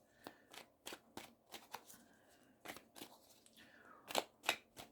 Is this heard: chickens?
no